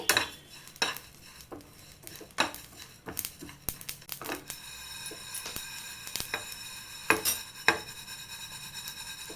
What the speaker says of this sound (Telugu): మెంతి జీలకర్ర నేనైతే ఆవాలు కూడా ఇన్ని వేసానండి ఇప్పుడు వీటినైతే లైట్గా ఫ్రై చేసుకోవాలి